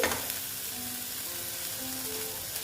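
Masala sizzles with onion greens as it is sautéed in a pan for a shol fish dish. The frying is continuous and close, with faint tonal background noise from the street beneath it.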